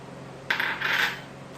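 Egg yolks being mixed into mango rice pudding ingredients, two short bright clinks and scrapes of a utensil against a bowl, close and brief, with no voices.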